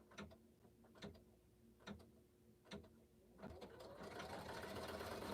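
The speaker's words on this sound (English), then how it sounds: "So it's doing the triple stitch." Embroidery sewing machine stitching a triple stitch: evenly spaced mechanical clicks about once a second, then the motor whirs into a faster, continuous stitching run, heard close and fairly quiet.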